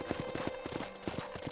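Horses' hooves clip-clopping in a steady, close rhythm inside a ranch corral in the Red Dead Redemption video game, with a faint whinny in the background.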